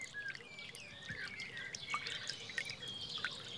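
A small spring-fed stream rising at the foot of an alder in the Belgian bocage trickles and drips softly and continuously, with scattered bright plinks of water close by.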